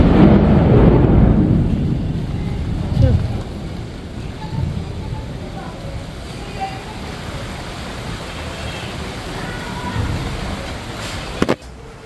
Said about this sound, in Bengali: বাজ পড়ছে।